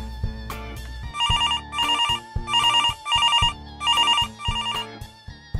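Phone in Garry's Mod ringing with a bright electronic trill, repeating in six short bursts separated by brief pauses, over a low background tone.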